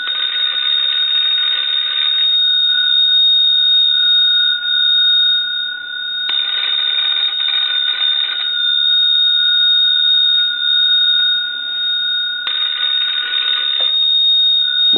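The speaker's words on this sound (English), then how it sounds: "We'll go ahead and ring the unit." An Automatic Electric 1A desk telephone bell rings loud and close in three long bursts, each a steady metallic trill lasting a couple of seconds, with quieter ringing continuing in the gaps between them.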